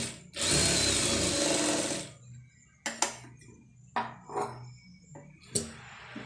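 A sewing machine stitches a border on a neck design: a two-second whirring run, then several short, quieter bursts with pauses between them.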